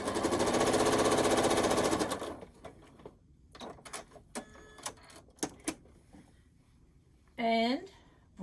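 A sewing machine joins quilt rows for a reversible quilt, running in one loud, fast, buzzing burst at the start, then falling quiet for scattered clicks, handling knocks and a brief whirring noise.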